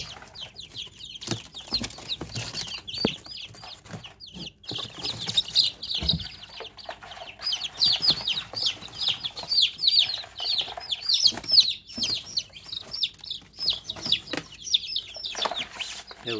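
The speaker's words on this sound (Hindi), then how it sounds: "ये चूजे देख सकते हैं दोस्तों।" Newly hatched chicks cheep in a busy, high-pitched chorus of rapid chirps, close and continuous, with occasional soft rustling and thumps as they are moved into a brooder.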